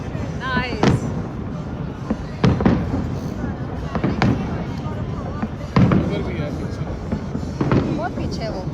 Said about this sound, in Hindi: इस वक्त 9 to 10 होटल्स जो है वो अपनी रूफ टॉप से आतिशबाजी करें